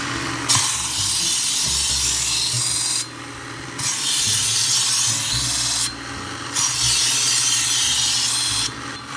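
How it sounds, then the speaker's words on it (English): An electric Work Sharp knife sharpener grinds a knife blade in three long, loud, steady passes of high abrasive whir, each stopping abruptly with short pauses between, no talking. "So we're going to sharpen it on the work sharp"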